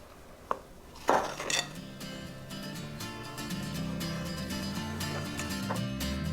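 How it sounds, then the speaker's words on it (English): A utensil mixes wet and dry soda bread dough in a bowl, giving a few sharp clinks and knocks near the start, then softer steady working over a continuous background hum. "I'm just trying to mix the wet and the dry together and hopefully get a ball going here."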